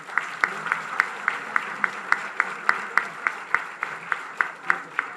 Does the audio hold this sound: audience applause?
yes